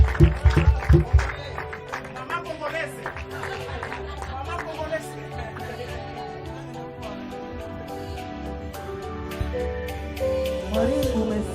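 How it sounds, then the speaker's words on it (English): At an end-of-year company party, guests give a round of applause for a team award winner: a short, loud burst of clapping at the start that fades under chatter, talking and background music. "Round of applause for Maureen Atieno."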